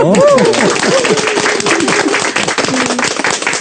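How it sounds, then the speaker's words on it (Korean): A church congregation at Yangil Church in Osan claps, a brisk burst of many hands beneath voices talking and calling out over it. "박수 한번 칠까요?"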